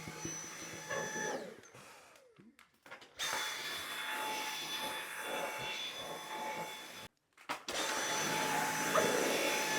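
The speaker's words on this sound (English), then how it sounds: "let's vacuum" A vacuum cleaner runs with a steady high whine, cutting out briefly twice and starting back up, with bumping and handling noises in between.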